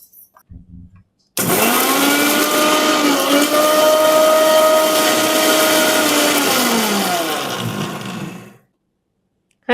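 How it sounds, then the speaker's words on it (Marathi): A mixer grinder grinds dry roasted cumin seeds with a loud, steady whirring roar. It starts abruptly, holds for about seven seconds with a slight pitch dip, then winds down and stops. "सुकेत वाटून घेऊचे।"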